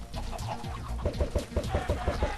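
Minecraft chickens cluck in quick, repeated bursts over a steady game background, close and fairly loud, with no speech.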